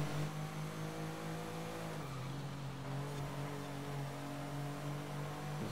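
A Porsche 911 Turbo with a 3.6-litre turbo boxer six of 400 hp drives in Forza Horizon 5, its engine holding a steady droning tone that drops in pitch partway through, fairly quiet and without speech.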